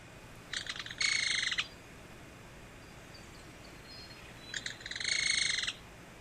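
A bird scream call played back during a Minecraft game: two loud, harsh screeching bursts, each about a second long, separated by a quiet gap, with no voices.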